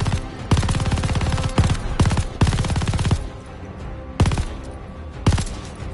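MG42 machine gun in Call of Duty Vanguard fires several rapid automatic bursts, loud and close, with short gaps between them and a couple of brief final bursts.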